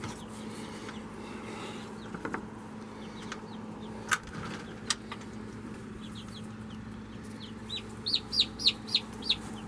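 Backyard hens cluck and chirp intermittently at a moderate distance, with a burst of rapid clucks toward the end over quiet background hum.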